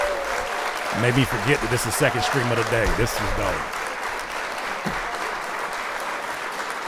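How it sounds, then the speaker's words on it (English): Applause for a guest on a livestream, likely a clapping sound effect, continuous and fairly even throughout with someone talking over the first half. "please, round of applause for my guest today"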